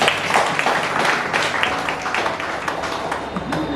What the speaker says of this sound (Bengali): ওই ভাইয়ের জন্য জোরে করতালি দিন।